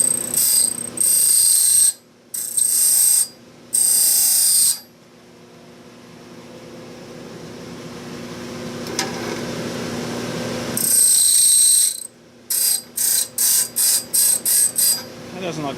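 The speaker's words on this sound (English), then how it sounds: "This is a diamond dressing tool." Diamond dressing tool shaving a grinding stone in a workshop: bursts of harsh, high-pitched grinding scrape in several passes, with a quieter steady motor hum between them and a rapid series of short scraping strokes at the end.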